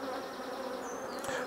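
Honey bees buzz densely around an opened hive, a steady close hum with individual bees droning past near the end.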